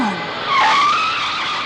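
A car skids with a sharp, rising tire squeal that swells mid-clip and holds steady, loud and close, with no talk over it.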